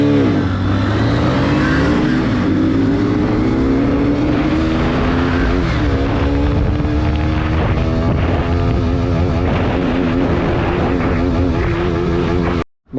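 A KTM RC 125 and a Hero HF Deluxe motorcycle drag race, engines revving hard and loud with rising pitch through gear changes, alone without talk, ending abruptly.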